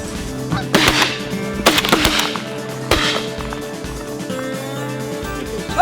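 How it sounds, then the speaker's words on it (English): Geese honk overhead during a goose hunt in Wyoming, with several sharp shotgun blasts breaking through the calls and a low background rumble. "There's more geese up."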